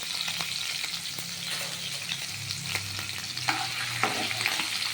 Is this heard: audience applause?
no